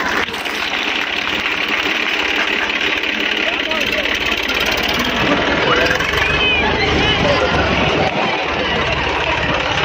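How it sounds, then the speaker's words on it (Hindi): A tractor engine runs steadily and loudly at a village stunt show as the tractor drives over a performer lying on the ground, its constant mechanical drone continuing throughout while people talk over it. "ट्रैक्टर कलाकार के ऊपर निकल चुका है"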